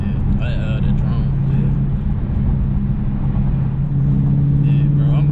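A steady low exhaust drone from a Dodge Charger Scat Pack 392 hums continuously inside the car, a deep constant tone that holds throughout, with some faint rumble and a brief rise near the end.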